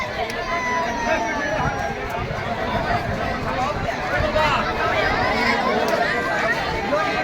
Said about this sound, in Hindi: और दुकानों पर बहुत भीड़ है, खास करके टिकिया चाउमीन की दुकानों पर और जलेबी की दुकानों पर।